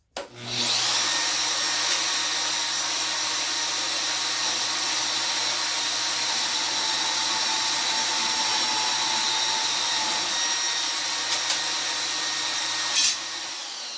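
A portable bandsaw slices through thin aluminum with a loud, steady, high whine that holds evenly for the whole stretch, with no talking.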